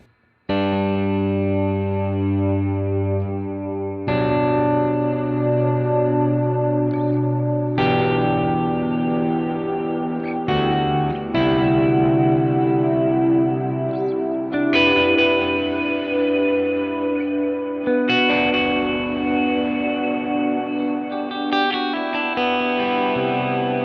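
Electric guitar through a Kemper ambient reverb on the Bloom preset, with sustained chords and notes struck every few seconds that swell and wash into a long, shimmering tail, heard alone.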